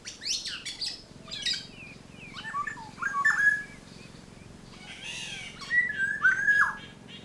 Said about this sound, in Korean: 소리가 아름답기로 유명한 꾀꼬리 울음소리도 이곳에서는 쉽게 들을 수 있다.